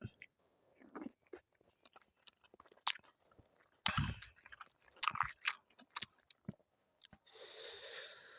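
Someone eats very spicy moo yor tom yum sprinkled with chili powder, with hot sticky rice and crisp vegetables: close, irregular crunching bites, chewing and slurps in quiet, with a louder sip near the end.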